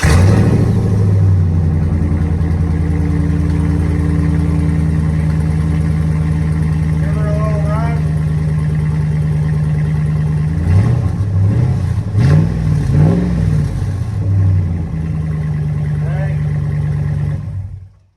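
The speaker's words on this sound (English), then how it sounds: "Entirely too loud and kind of sounds like it's a straight pipe" A Hemi V8 with a loud, straight-pipe-like exhaust idles heavily with a deep rumble, then gets several sharp throttle blips in the middle, all close up and loud.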